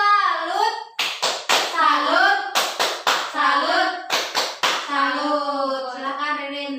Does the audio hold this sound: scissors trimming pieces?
no